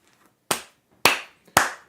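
Three sharp, separate hand claps spaced about half a second apart, each loud, close and dry with a quick decay, from one person applauding during a live watchalong of a Man City versus West Ham Premier League match.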